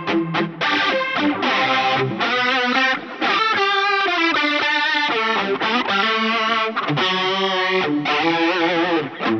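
An electric guitar plays through a POD HD 500X processor with distortion engaged. A loud, dense, saturated tone carries continuous chords and riffs with brief gaps between phrases.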